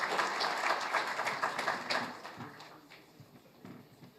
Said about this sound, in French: Sous vos applaudissements, Bassam.